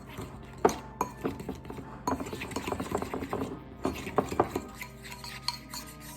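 A fork whisks eggs, salt and gelatin into a dairy-free batter in a bowl, giving rapid clinking and scraping strokes against the dish, close and fairly quiet, in uneven bursts with short pauses.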